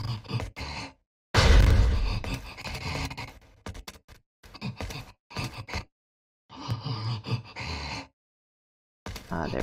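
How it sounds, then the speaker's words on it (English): Enemy breathing in the video game Resident Evil 4: raspy, gasping breaths and snorts arriving in separate bursts split by short silences, close and fairly loud, with no talking. "Ah, they're breathing."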